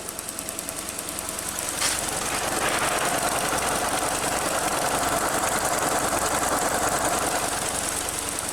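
A car engine idles with a rough, rapid knocking rattle, loud and continuous, close up.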